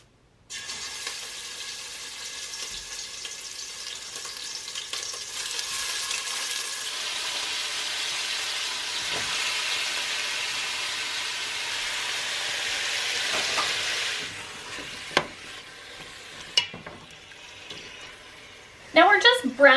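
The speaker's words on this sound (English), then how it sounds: "Now we're just browning this on all sides, just real quickly." Venison stew meat, some pieces still partly frozen, browns in a pot on a wood stove, giving a steady, moderately loud sizzle that fades near the end, followed by a few scraping knocks.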